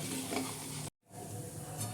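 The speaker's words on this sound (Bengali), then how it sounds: "দিয়ে এটাকে ভালো করে আমি একটু ভেজে নেবো" Dal frying on a strong flame in a pan with steady stirring, a continuous close sizzle that cuts out for a moment midway and then resumes.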